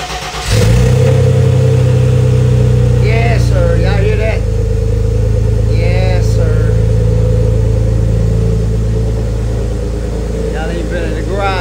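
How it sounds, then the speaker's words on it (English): An old car that has sat a long time in a garage cold-starts with a loud crank and catch, then idles roughly with a few rising revs, close up and dominating, with brief talk over the engine. "We'll give y'all a quick cold start,"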